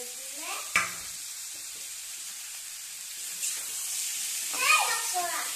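Tomatoes fry in a pan for a fish curry with cauliflower, a low steady sizzle broken by a sharp utensil knock and a few scraping stir strokes, with some faint voice-like sounds.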